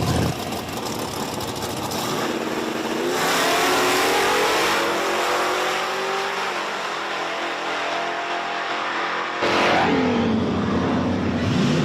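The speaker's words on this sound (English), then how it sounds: "Oh, great drag race there, but it's going to be the left lane. The hatchback Mustang going to get the win." A Fox body Mustang hatchback and another drag car launch at an Outlaws event at Virginia Motorsports Park in 2024. Loud, roaring engines rise through the gears, fade off, then a second burst of revving follows.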